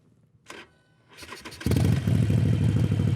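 A motorcycle engine, left in gear on a lift with the kill switch reset, cranks over and starts right back up, settling into a steady, loud idle close by after a couple of short starter bursts.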